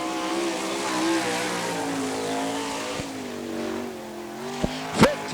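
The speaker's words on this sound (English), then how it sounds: "On the clock now, the 9 car, Boston Reed from Kokomo, Indiana" A winged sprint car on the All Star Circuit of Champions Winternationals dirt track at Gibsonton, Florida runs a timed qualifying lap, its engine a steady, sustained roar with shifting pitch, ending in a couple of brief sharp bursts.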